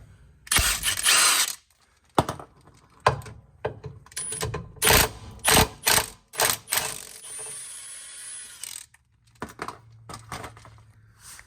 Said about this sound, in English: we only have to undo these two bolts on the diff cover. They're going to be a 14 millimeter, and so I'm just going to remove those now.